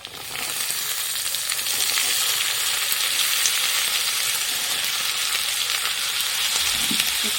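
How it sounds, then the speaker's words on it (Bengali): Potatoes fry in a pan with green peas added, giving a loud, steady sizzle close up, with occasional metallic clinks and scraping from stirring and no voices. "আমি এবার মটরশুঁটিগুলো দিয়ে দেবো"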